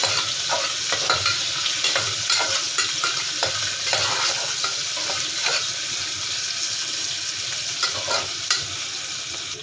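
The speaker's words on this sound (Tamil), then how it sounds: "அடுத்ததாக ஒரு பச்சை மிளகாய், இது நல்லா மிக்ஸ் பண்ணிக்கலாம்." Chopped onions and green chili fry in a pan while being stirred, giving a steady sizzle broken by repeated scraping and clinking strokes, close and moderately loud.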